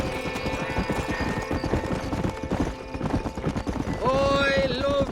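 A horse gallops in Red Dead Redemption, its rhythmic clip-clop hoofbeats loud and steady throughout, ending with a whinny as a voice calls out over it.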